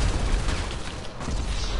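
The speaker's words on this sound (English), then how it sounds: "They have miniguns, bro." Minigun fire in GTA rattles on without a break, loud and harsh, a dense blast of gunfire that hardly varies for nearly two seconds.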